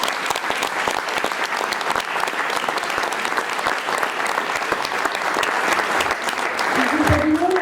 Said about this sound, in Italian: gli faremo un grosso applauso